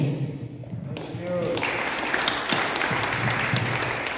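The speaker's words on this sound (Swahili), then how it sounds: "Tuwapigieni makofi mazuri tafadhali" Applause breaks out at a memorial service in Nairobi. It starts faint and builds into steady, sustained clapping that runs to the end, with voices murmuring underneath.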